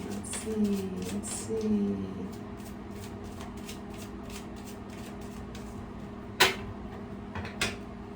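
Playing cards being shuffled by hand in a quiet room, a soft repeated riffling that goes on for several seconds, followed by a couple of sharper taps near the end.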